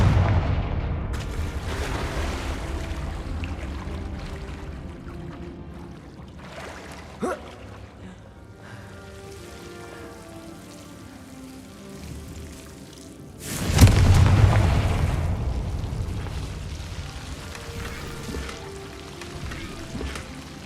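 A Confringo blasting spell detonates in the Hogwarts Legacy video game, a sudden loud booming blast that rumbles out over a few seconds against a low ambient game background, with a shorter crack heard earlier.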